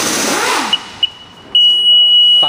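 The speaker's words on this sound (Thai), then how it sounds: "ตอนนี้กลายเป็นเสียงตึ๊ดตึ๊ดไปแล้วเพราะว่า อันนี้มันบอกว่าแบตเตอรี่มันเริ่มอ่อนแล้วครับ" A Sea-Doo jet ski gives a few short, sharp electronic beeps after a newly programmed key is inserted, then a sustained high beep tone, all close and clear after an opening burst of noise.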